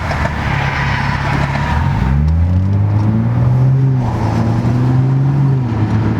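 A Jeep engine rumbles loudly and steadily behind, with rising and falling pitch as it accelerates, close by and continuous throughout.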